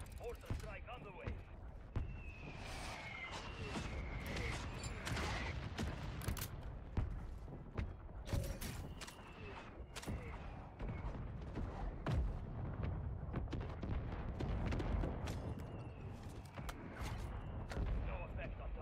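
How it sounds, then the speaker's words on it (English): Mortar strike in the video game Warzone: a series of muffled, distant booms and thuds scattered over a busy battlefield bed, with voices talking over the impacts. "Mortar strike underway."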